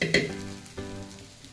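Rice and vegetables frying together for khichdi pulao, a close, steady sizzle with a couple of sharp utensil clanks against the pan.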